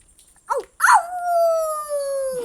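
A child imitates a fox howl: a short yelp, then one long, loud, sustained howl that slowly falls and fades.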